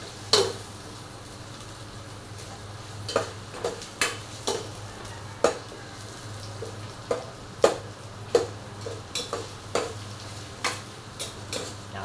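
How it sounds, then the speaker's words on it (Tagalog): Onions sautéing in a pan give a steady low sizzle, punctuated by a dozen sharp metallic scrapes and taps of a utensil against the pan at irregular intervals; no talking. "Ngayon, nilagay naman natin yung sibuyas."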